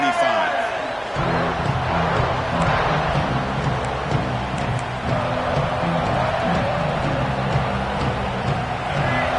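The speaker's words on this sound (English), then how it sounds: "this home crowd is fired up and ready to make a difference today" Home stadium crowd roaring in a college football video game, a steady loud wash of cheering and noise running throughout, with a commentator's voice talking over it.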